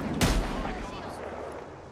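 Gunfire in a video game during an e-sports stream, one sharp loud shot followed by a fading rumble and fainter distant shots, with a voice talking underneath.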